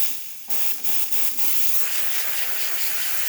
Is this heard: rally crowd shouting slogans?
no